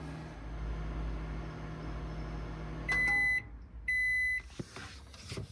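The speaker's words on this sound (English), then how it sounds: "Get that in the microwave." A steady low microwave hum runs for a few seconds while heating tea, then stops, followed by two loud, sustained electronic beeps close by.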